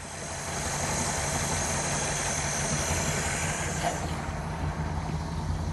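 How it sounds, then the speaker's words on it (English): A 1956 Ford Fairlane Victoria hardtop's engine runs at a steady idle, a continuous even rumble with a smooth mid-range drone that starts softly and then holds at a constant level. "And the car sounds very good. Runs good, sounds good."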